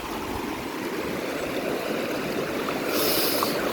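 Icy mountain stream water rushes steadily along the Poon Hill trail in Nepal, a constant, close broadband roar with no talking.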